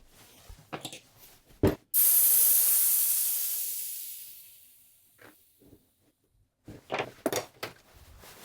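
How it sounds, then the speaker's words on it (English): Air hisses out of a bicycle tire in a sudden loud rush that slowly fades over about three seconds, framed by clicks and handling noises of repair work before and after. "I'm going to go and get the tire off of here and let the air out"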